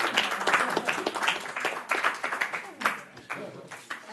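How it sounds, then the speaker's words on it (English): Scattered clapping from a small audience for a team coming up to present, dense and steady through the whole stretch, with voices murmuring underneath. "let's give an applause for team number 1"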